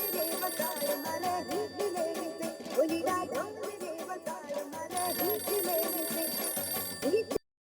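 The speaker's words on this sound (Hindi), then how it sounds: "लग गया फोन जेठा भरा को" A telephone ringing as a call is placed in a Hindi sitcom scene, a repeated electronic ring pattern running for several seconds amid background music before cutting off abruptly.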